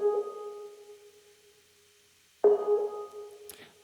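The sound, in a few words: Klevgrand ELPIANO organ plugin, Scream Lee preset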